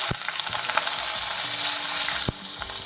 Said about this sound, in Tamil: இப்போ நான் ஒரு பேனில் ஆயில் சூடு பண்ண வச்சுருந்தேன். சூடாகிடுச்சு. இந்த வெண்டைக்காய் சேர்த்துடலாம்